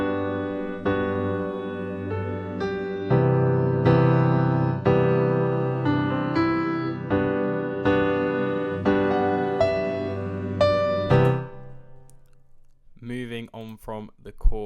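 Piano layered with a soft synth pad, repeated chords in an even rhythm over a sustained wash, close and full, fading out near the end before a few faint scattered sounds.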